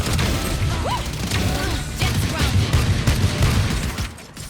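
Spectre submachine gun fire in the video game Valorant, dense and loud, with rapid bursts of shots and mechanical clatter running nearly continuously.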